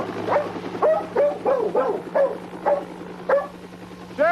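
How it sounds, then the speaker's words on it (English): A police dog barks repeatedly at a garage door in short, sharp bursts at an irregular rhythm, fairly close, with a low steady hum underneath. "He's still barking at the garage door."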